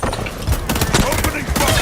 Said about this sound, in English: Opening fire!